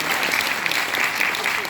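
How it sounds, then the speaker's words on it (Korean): Applause from the audience at a political town hall meeting in Sejong rings out as a brief, dense burst of clapping, with no talking over it. "박수 한번 부탁드립니다."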